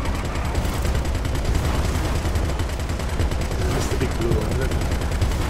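Vehicle-mounted guns in GTA 5 Online fire continuously in a dense, rapid stream that holds steady throughout, with voices talking over the shooting.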